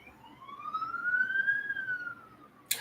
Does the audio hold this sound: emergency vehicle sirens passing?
yes